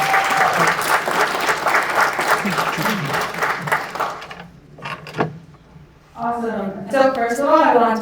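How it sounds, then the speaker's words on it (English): Audience applause at a concussion research talk, steady and loud clapping for about four seconds, fading into scattered claps before a speaker begins talking. "One more round of applause for her again."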